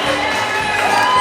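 A circus audience claps and cheers loudly for a rotating-table balancing act, a dense burst of applause and shouting voices filling the moment.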